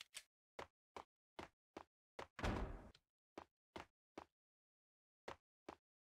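Door slamming in the video game Max Payne: a series of sharp, loud thuds at uneven spacing, with a longer noisy burst partway through, standing alone with no talk.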